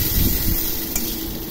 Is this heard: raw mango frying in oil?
yes